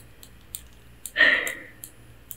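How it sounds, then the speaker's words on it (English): A single bright metallic clatter of finger rings knocking together, brief and close, with faint scattered clicks before and after in a quiet room. "you guys really like the sound of my rings clicking together"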